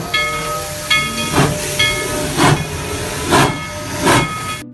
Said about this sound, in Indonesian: Wow, lihat, ada kereta Thomas